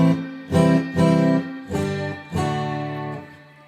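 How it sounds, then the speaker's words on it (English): A LAVA ME Air guitar on its chorus and reverb preset: four strummed chords ring out one after another with a shimmering, spacious tail, heard alone and up close. "yellow is chorus and reverb."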